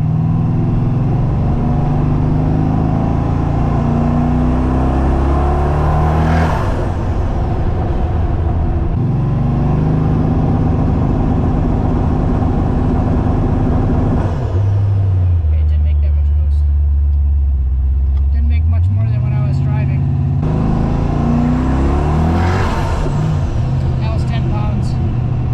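A car running on E85 fuel, fitted with a crankcase vacuum exhaust scavenge setup, is driven: a loud, close engine drone climbs and drops repeatedly through gear changes over about twenty-five seconds.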